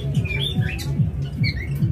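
A young pet bird in a bird shop letting out repeated squawks and chirps over a steady low background hum.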